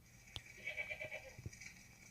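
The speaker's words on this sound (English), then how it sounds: "Not the goats. The goats are on fire!" Goats bleating in a video game while they burn, faint and tinny, with a few wavering bleats layered over low background noise and soft clicks.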